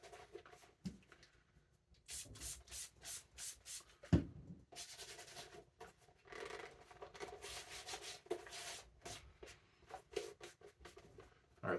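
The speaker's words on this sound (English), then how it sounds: "Give them a little bit of a roll, just with a wooden dowel." A wooden dowel rolls over a leather Allen Edmonds Park Avenue shoe, giving soft, close, intermittent rubbing and scuffing strokes in an otherwise quiet room.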